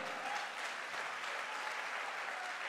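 A hall audience at a company promotion celebration applauds steadily throughout, a dense, even wash of many hands clapping at once with no voices standing out.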